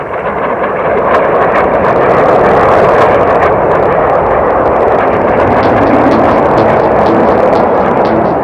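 A Boeing 707 jet airliner in flight, a loud, constant, roaring jet engine wash that holds steady throughout with a few faint crackles.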